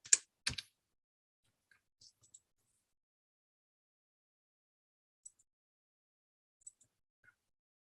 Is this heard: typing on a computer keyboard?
yes